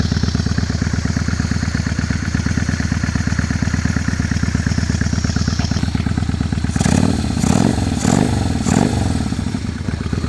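Honda Steed 400 bobber motorcycle engine idles close by with an even, rapid thumping chug, then gets a brief throttle blip that swells louder and rougher before settling.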